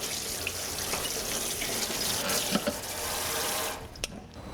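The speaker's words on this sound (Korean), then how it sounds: "찬물 샤워를 해주세요." Cold tap water runs steadily into a sink, rinsing a steamer of steamed rice cake, a continuous broadband rush that cuts off near the end, leaving a few faint drips and clinks.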